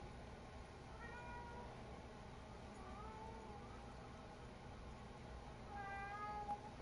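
A cat meows twice, faint and a few seconds apart, over a steady low background hum.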